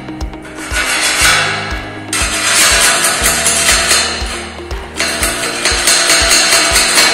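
A hammer strikes the welded joints of a metal gate to knock off slag and spatter, giving loud, rhythmic metallic taps with ringing scrapes between them, close by and with no talk.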